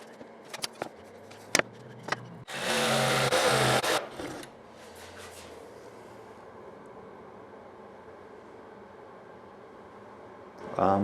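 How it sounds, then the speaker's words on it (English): Jigsaw cutting a notch in 3/4 inch plywood for base trim, a loud buzzing saw burst of about a second and a half after a few sharp knocks, followed by quieter handling and clatter. "I also need to cut a notch out of the back here for base trim."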